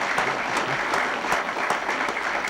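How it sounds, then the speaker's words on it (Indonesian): An audience on an Indonesian television talk show applauds for a guest family, a dense, steady clapping from a crowd that runs unbroken at even loudness, with no voices heard over it. "Baiklah, kita berikan tepuk tangan untuk keluarga Pangky."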